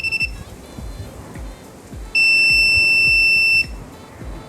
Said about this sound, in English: I have to hold the green switch for 3 seconds until I hear a